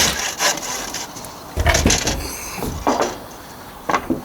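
Handsaw cutting through timber for a double roof hip on an extension build, a few separate bursts of rasping strokes close by, with short pauses and a final brief stroke, no talking.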